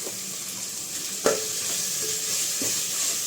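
Turmeric powder is stirred into ginger garlic paste sautéing in a pan for a goat head curry, giving a steady close sizzle with a few scraping stirs and no talking.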